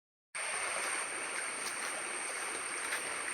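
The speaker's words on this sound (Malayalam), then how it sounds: "ഇത് ഞങ്ങളുടെ തോട്." A small stream in rural Kerala flows with a steady, close rush of water, continuous and unbroken, with no voices.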